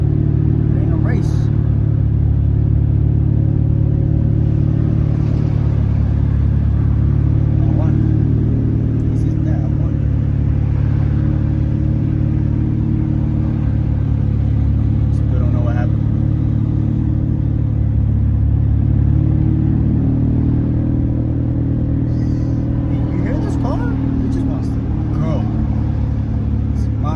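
A car driven fast on the road, its engine rumbling low and steady and close up, with faint wind and road noise and brief bits of talk over the top.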